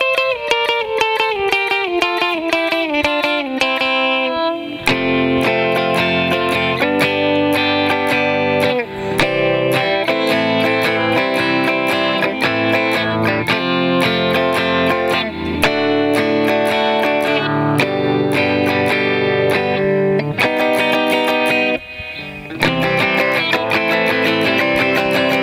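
Electric guitar with effects and distortion plays the bridge of a song, opening with a descending run and moving into dense strummed chords and fills, loud and continuous with no talking.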